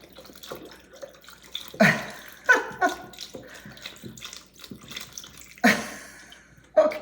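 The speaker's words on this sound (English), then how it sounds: "Then pour the rest of the chicken stock in your crock pot." Chicken stock pours from a container into a crock pot in several bursts of gurgling, glugging liquid, close and separated by short pauses.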